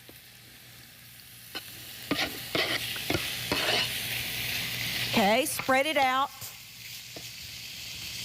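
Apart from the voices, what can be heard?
pork sizzling in hot skillet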